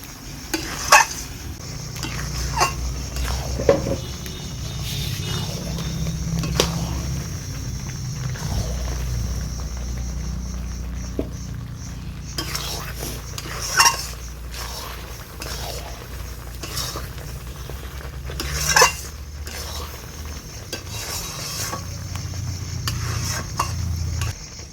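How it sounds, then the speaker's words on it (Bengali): Olive pickle with vinegar being stirred and cooked down in a pan, a steady low sizzle and bubbling bed with repeated scraping and clinking strokes of a spoon against the metal, close and continuous, no talking. "সব কিছু মিশিয়ে নিয়ে আরও কিছুক্ষণ এটা আমি জাল দিয়ে নেব"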